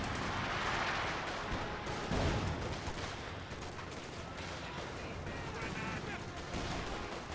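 Dense, continuous artillery barrage from the Company of Heroes 2 video game, a rolling roar of overlapping blasts and gunfire with one heavier thump near the start, under a caster's commentary.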